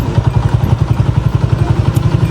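A motorcycle at a village market running with a steady, rapid low thumping pulse, close by and fairly loud, with faint clatter over it and no talk.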